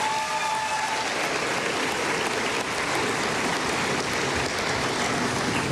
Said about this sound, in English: yes, round of applause for them too